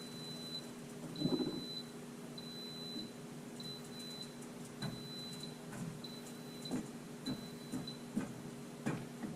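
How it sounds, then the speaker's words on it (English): A device gives a steady string of short electronic beeps at regular intervals over quiet background noise, with faint ticks and thumps scattered between them. "Sorry about the beeping."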